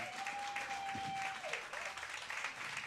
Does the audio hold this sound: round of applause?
yes